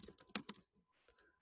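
Computer keyboard typing during a math lecture, a quick burst of close, crisp key clicks followed by a pause and a few fainter taps.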